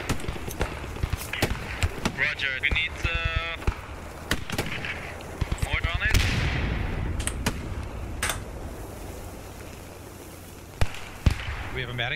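Gunfire in the video game Post Scriptum crackles in scattered sharp shots and short bursts, some close and some distant, mixed with voices talking over team chat.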